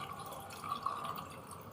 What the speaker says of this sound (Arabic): فانا انزل بكوبايه الميه ايه في النص كده